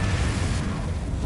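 A Confringo spell explosion in Hogwarts Legacy roars as a dense, loud, continuous burst with heavy low rumble and no pause across the short moment.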